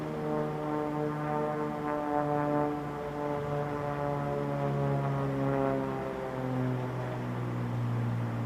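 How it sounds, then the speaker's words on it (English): A Beechcraft Bonanza flying aerobatics at an air race event drones steadily overhead, its propeller engine giving a loud, continuous buzzing hum whose pitch slowly drops as it passes by, with no talk over it. "Coming in from the right, Jim Pites and the Aerobatic Bonanza."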